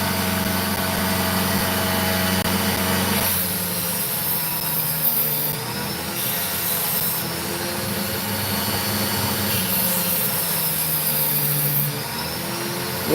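A small drill whirs steadily at close range, its motor pitch dipping and rising slightly as it strains, with no talking.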